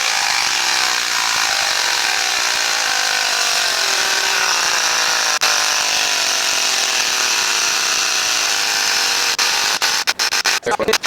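A Ryobi ONE+ 18V cordless high-pressure inflator with digital gauge pumps up a tire, giving a loud, steady buzzing motor drone that runs nearly the whole time and ends with a few clicks and rattles.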